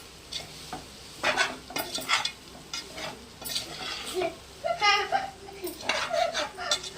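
Rice and salt stirred in a pan for fried rice, a spatula scraping and clinking against the metal in irregular bursts with a light sizzle underneath, close and moderately loud.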